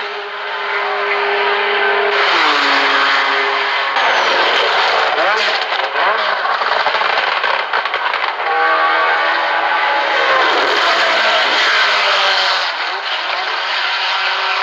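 Race car engines roar continuously at high pitch during the 1975 24 Hours of Le Mans, including a Maserati-engined Ligier JS2, rising and falling as cars pass, loud and close throughout.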